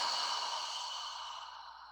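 One slow deep exhale during a breathing exercise, a soft close breathy rush of air fading gradually over about two seconds.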